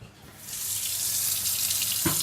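Cold tap water gushes steadily into a pot of uncooked rice, a continuous close rushing splash that builds slightly, then stops near the end.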